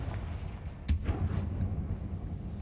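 A Confringo fire spell blast in Hogwarts Legacy, a single sharp crack of impact over a low, steady rumble of game ambience, followed by a brief fiery rush.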